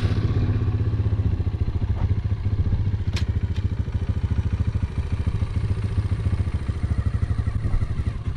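A dirt bike engine runs close and loud in the desert with a steady, rapid chugging pulse throughout, a couple of faint clanks on top and no clear rise in revs; no talking.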